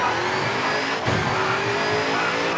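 Rally car in V-Rally 4 roaring at high revs while sliding around a plane, a loud, sustained engine whine with shifting pitch and gritty tire noise, close and uninterrupted.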